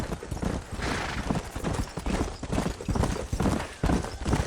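Horse hooves gallop in the Red Dead Redemption video game, a dense, fast, loud clip-clop rhythm that holds steady throughout.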